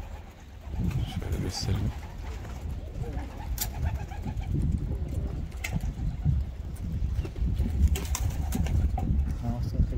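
Young racing pigeons coo outdoors at a loft in Bursa, a soft low murmuring that runs steadily throughout beneath someone talking briefly, with faint traffic nearby.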